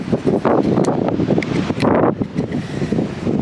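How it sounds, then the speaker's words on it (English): Strong wind buffets the microphone in loud, gusting rumbles on the northernmost California coast, with a faint roar of surf in the background. "It's windy!"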